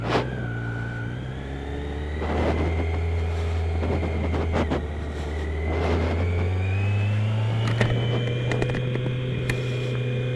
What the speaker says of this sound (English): Let's go for a ride. We're gonna have a little bit of fun today because we've got a sport bike.